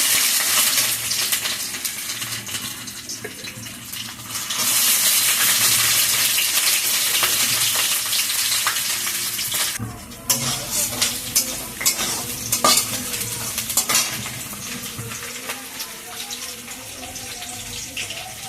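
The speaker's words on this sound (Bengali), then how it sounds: "রসুনটা একটু ভাজা ভাজা হলো" Garlic frying in a pan with cumin seeds for a Malabar spinach dish, a dense, close sizzle that swells louder midway, then continues with scraping stirs and sharp crackles, with brief talk underneath.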